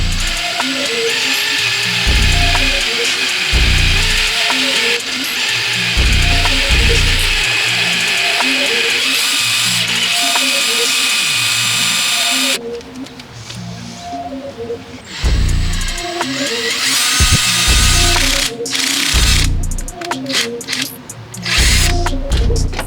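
A drill bores a hole in a Honda D-series engine block, grinding loud and close in long runs with brief pauses and ratcheting chatter, then a quieter gap before drilling resumes.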